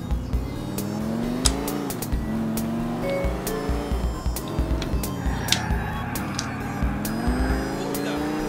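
A car driving in the video game GTA IV, engine hum rising and falling through gear changes with repeated sharp clicks and knocks, under steady speech from a player talking over the game.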